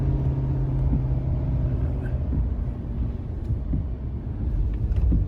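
A 2019 Ford F-450 Limited pickup's engine labors uphill while towing 34,000 lbs, a steady low droning rumble with a sustained hum that shifts in pitch partway through, with wind noise and no talk.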